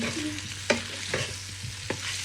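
Small slices of salami fry in a little oil, a soft sizzle with a few sharp stirring knocks and scrapes of a utensil against the pan, quiet and without voices.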